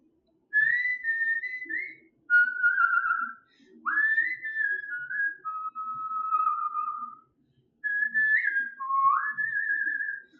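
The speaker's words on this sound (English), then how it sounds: "how does it sound when I whistle?" A person whistles into a laptop microphone, giving a melodic run of clear, wavering whistled notes in four phrases separated by short pauses, close and fairly quiet with faint background noise.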